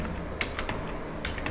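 Someone types a command on a computer keyboard, producing a short burst of crisp key clicks close by with a few separate taps.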